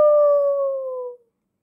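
A human voice imitates a long, loud dog-like howl, a sustained wavering tone that holds steady for just over a second and then cuts off, with no other sound around it.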